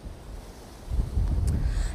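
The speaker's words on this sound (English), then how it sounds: "obviously it's very windy right now outside" Strong wind buffets the microphone outdoors in Santa Cruz, a low roaring rumble that swells louder in the second half.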